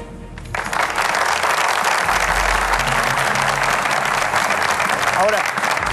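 A studio audience applauds at the 2014 Colombian presidential debate, a steady, dense round of clapping that starts abruptly and carries on loud for several seconds, with a few voices murmuring underneath.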